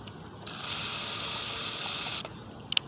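A small electric lawnmower blade sharpener motor spins up and runs with a steady high whir for about two seconds, then cuts off, followed by a couple of faint clicks.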